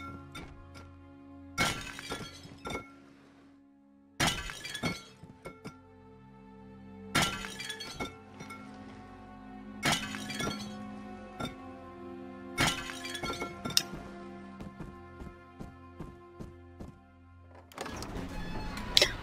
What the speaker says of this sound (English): If I break all these plates,